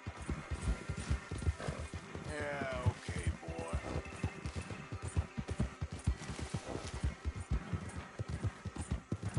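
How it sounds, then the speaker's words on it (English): Hooves of a horse in a video game clip-clop at a rapid, steady gallop, loud and continuous throughout, with a brief whinny partway through and a few faint voices underneath. "You're the fastest horse on the market."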